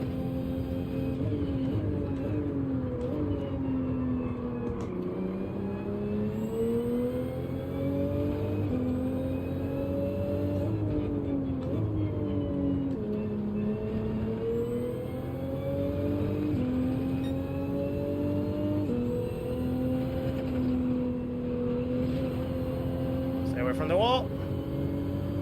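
Toyota Supra race cars in Gran Turismo 7 at Blue Moon Bay, an engine drone that steadily rises and falls through short upshifts, running continuously under a commentator's voice.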